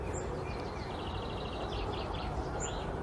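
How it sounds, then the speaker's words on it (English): Faint, quick twittering goldfinch song with rapid trilled notes and short tweets, heard at a distance from trees near an allotment over a low background hum. "If you heard that, that is a goldfinch."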